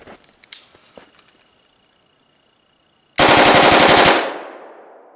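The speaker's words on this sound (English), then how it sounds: "Sounded like 10 or so rounds to me. 11 rounds is the actual number." A single continuous burst of automatic gunfire, about eleven rounds in a tight rapid string, loud and close, cut off sharply and followed by a brief decaying echo after a quiet lead-in with scattered small clicks.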